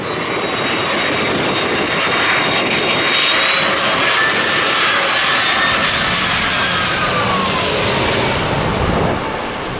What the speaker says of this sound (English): This Airbus A300 landing in crosswinds with a bounce.